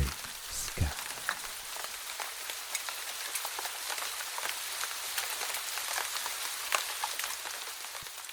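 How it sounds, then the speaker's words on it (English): Heavy rain pours down in Ubud, Bali, a dense, even hiss of drops striking surfaces that persists throughout, with a few louder close splatters near the start. "Rain gushing down from the deep, deep gray sky."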